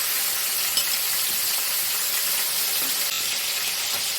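Chopped green chillies hitting hot oil for a paneer thoran, a loud, dense, even sizzle close by that holds steady throughout without speech.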